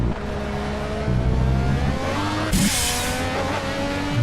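An LMP prototype race car in Project CARS lights up its rear wheels over a bump at Imola, a loud steady engine drone that rises into a brief screeching burst of wheelspin midway before settling back.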